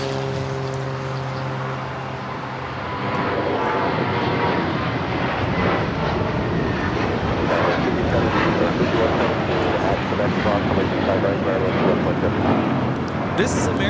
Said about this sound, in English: This is American Airlines 2965 taking off to Dallas Fort Worth on the A321